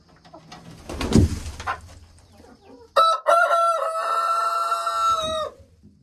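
A rooster crows once, loud and close, in a long harmonic cock-a-doodle-doo lasting about two and a half seconds, after some soft rustling and a low thump.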